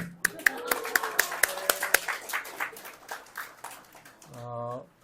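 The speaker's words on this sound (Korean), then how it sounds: "박수" A handful of sharp claps ring out in a small church Bible-study gathering, then trail into scattered lighter claps, followed by a brief voiced tone near the end.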